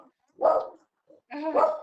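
A Chihuahua lets out two sharp, fairly loud barks indoors, separated by a short pause and a faint yip, with no talking over them.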